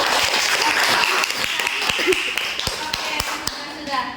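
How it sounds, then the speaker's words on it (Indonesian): A classroom of students claps for a classmate's answer, a loose scattered patter of hand claps with sharp individual taps, while a voice talks faintly underneath. "tepuk tangannya dulu"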